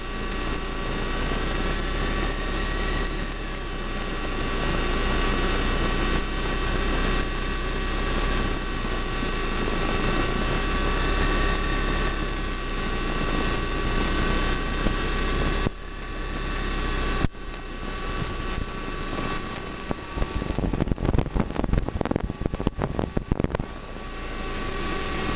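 A Robin DR400 light aircraft idles and rumbles steadily while taxiing from parking toward the holding point, a continuous close engine drone inside the cabin with a few louder bursts and rattles toward the end.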